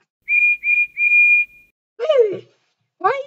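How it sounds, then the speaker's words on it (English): Three short high whistle toots from a toy train engine in a Roblox game, the last one held longer, followed by two brief voice-like sounds after a pause. "Why is Percy's whistle like that?"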